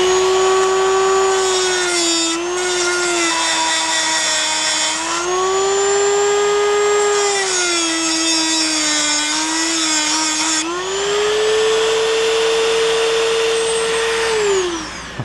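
Power tool enlarging a threaded hole in the steel of a Victor safe, a loud, steady high-pitched whine that dips and recovers in pitch as it bites, running continuously up close.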